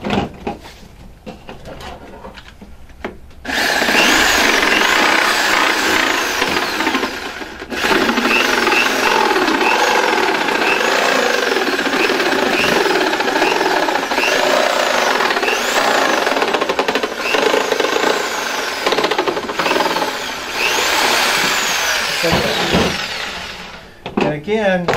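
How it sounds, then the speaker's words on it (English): A jigsaw saws through the white plastic shell of a Ride custom wheelchair back, a loud, steady buzzing cut that runs for about twenty seconds with brief pauses, after quieter handling noises at the start. "you're going to grab the jigsaw and cut that up"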